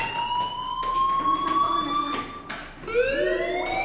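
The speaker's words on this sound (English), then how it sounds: "do you hear that fire alarm? That means you should be outside." A fire alarm from the video game Life is Strange wails loudly and steadily, its rising electronic tones repeating and sweeping up again near the end, heard alone without talk.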